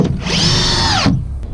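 A power drill drives a screw into the wood of a homemade ramp in one loud, steady whirring burst of about a second, close up, then stops.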